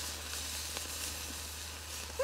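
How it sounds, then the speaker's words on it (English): Steak sizzles and fries steadily on a Firebox wood-burning camping stove outdoors, a constant close hiss with faint crackles and a low background hum throughout. "It's doing the steak."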